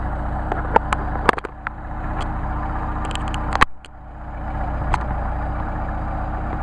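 An engine with a Solex carburetor idles at 750 RPM in a steady, low rumble, with sharp clicks and taps scattered on top and a brief dip partway through.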